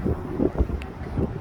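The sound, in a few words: wind blowing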